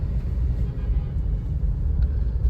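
A Tata Punch three-cylinder engine pulls in second gear through heavy traffic, a steady low droning rumble holding close and even throughout with no voices over it.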